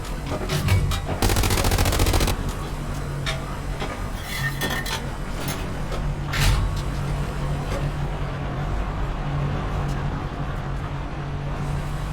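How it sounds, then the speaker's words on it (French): In the video game Hell Let Loose, an anti-tank rifle fires amid a constant battle din, with a loud sharp report early on, a few scattered cracks and impacts later, and a steady low rumble throughout. "C'est un fusil anti-char qui est en train de nous tirer dessus."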